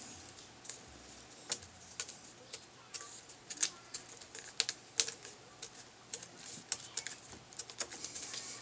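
Paper template being punched through with a tool along drawn lines for foam building, giving a series of sharp, quiet, irregular ticking pops close by, alone.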